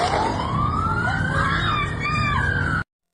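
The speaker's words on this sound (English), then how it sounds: "But a police car just passed by up ahead." A police car siren wails loudly as it passes up ahead near Bondi Beach, Australia, its rising, sweeping tone over traffic noise, cutting off abruptly.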